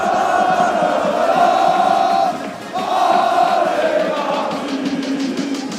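A large French crowd at the RLCS 1v1 final in a Rocket League esports arena roars and chants in a loud, sustained swell that dips briefly before surging again, with no one talking over it.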